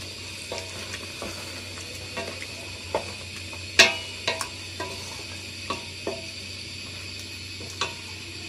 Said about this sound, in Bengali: এখন ভালো করে মশলার সাথে নেড়ে চেড়ে মিশিয়ে নিচ্ছি।